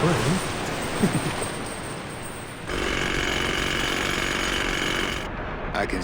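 A drill chisels at a crane in the video game Grim Fandango, a harsh, continuous mechanical hammering that runs for several seconds and shifts tone partway through, with brief voice sounds early on.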